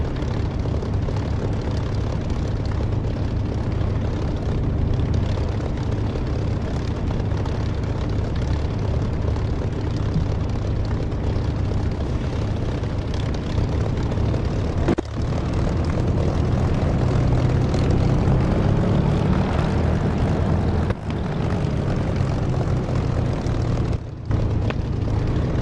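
A Spitfire's propeller engine taxiing in the DCS flight simulator, a loud, steady droning rumble that continues without a break, with a few brief dropouts.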